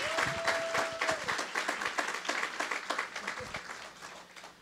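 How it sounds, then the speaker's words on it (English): Church congregation applauding at a Sunday service, a moderate crowd clapping in a steady patter that gradually fades, with a brief sustained tone near the start. "Let's give them the apostles a round of applause."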